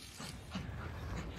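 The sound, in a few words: dog playing with an empty water bottle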